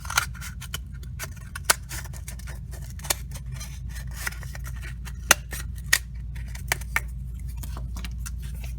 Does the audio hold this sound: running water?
no